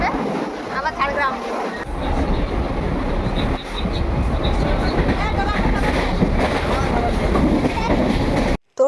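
A crowded local train runs from Howrah towards Kharagpur, its loud steady rumble and clatter filling the carriage, while passengers talk faintly in the background before the clip ends abruptly.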